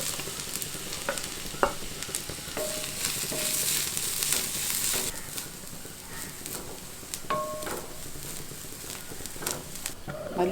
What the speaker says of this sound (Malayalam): ആദ്യം നമുക്ക് തേങ്ങ വറുക്കാം.